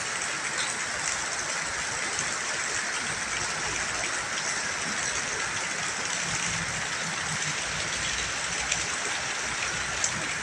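Steady, dense hiss of rain falling continuously on a used car market in Thailand, even and unbroken, with no voices.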